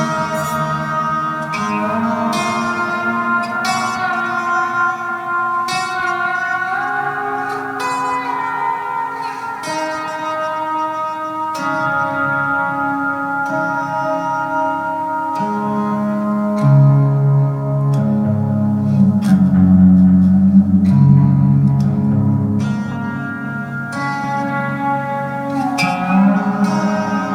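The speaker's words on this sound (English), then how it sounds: "basically this is the bass sound that I dig for doing free improvisation on my lap steel in my weird tunings" A lap steel guitar in an unusual tuning runs through Bias amp software on an iPad as a deep bass sound. Sustained, ringing low tones swell and blend into a reverberant, droning free improvisation with no speech.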